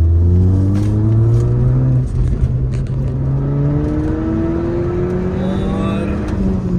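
A Skoda Laura engine with a stage 1 remap revs up and settles in repeated rising and falling sweeps, loud and close, with a deep steady rumble underneath.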